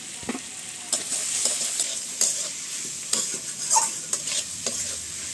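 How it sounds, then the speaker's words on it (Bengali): Tomatoes being stirred and fried into a fish curry in a pan, with a steady sizzle and repeated scraping strokes of the spoon at an irregular pace, close and clear, with no talking. "টমেটো দেওয়ার পরে ভালো করে নাড়াচাড়া করে একটু কষায় নেব"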